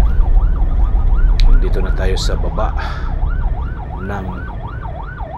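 An ambulance siren on a road near the Skyway wails in a steady, rapidly rising and falling pattern over car traffic noise, loud and close, while someone talks over it.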